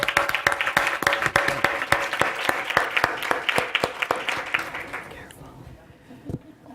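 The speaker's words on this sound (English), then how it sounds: "give them a round of applause for all the work they did in putting this together today" An audience at the MPRC 2013 Spring Forum applauds the staff with dense, steady clapping full of sharp individual claps, then tapers off and fades near the end.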